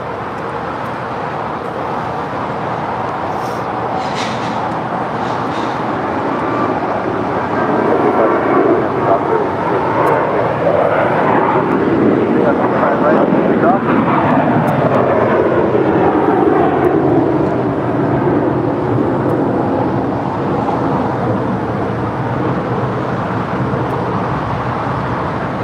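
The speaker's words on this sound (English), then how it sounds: "our next departure here on the south side, American Airlines flight 1245 heading to Dallas" An American Airlines Airbus A321 jet departs from the south side at LAX, bound for Dallas. Its broad roar builds steadily, peaks through the middle and holds loud before easing slightly, heard from a distance.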